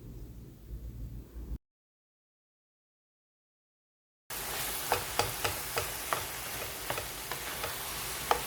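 Ground chicken seasoned with salt, crushed red chilies and oregano frying in a pan, a steady sizzle with repeated stirring scrapes and light clicks of a utensil against the pan, close and moderately loud after a short gap of silence.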